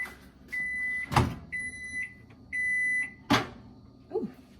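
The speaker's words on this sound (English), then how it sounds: "put into the microwave for 2 minutes" A microwave oven hums in several steady stretches, interrupted by sharp clunks and a faint thump, close by with no talk.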